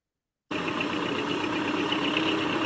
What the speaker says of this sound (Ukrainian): Саме так, це трактор.